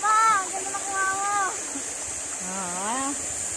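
The Ipo river stream flows with a steady rushing hiss throughout, while a voice sounds over the water.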